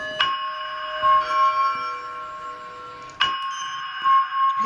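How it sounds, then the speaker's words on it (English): A fire alarm test in a Roblox mansion video game, where a steady electronic bell-like alarm tone rings in two long bursts split by a brief gap, loud and ongoing. "This is why we do a fire alarm test."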